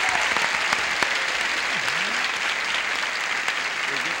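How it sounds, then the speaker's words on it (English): Steady applause from a crowd, dense clapping filling the whole stretch at an even level, with faint background chatter mixed in. "would you a brisk round of applause for Carmen Martinez"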